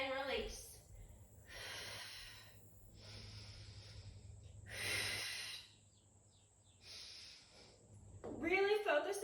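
Several forceful breathy exhales recur in slow rhythm while pulling a band down overhead during a core exercise, each a close, hissing rush of air separated by quiet pauses, with a sharper snort-like breath near the end.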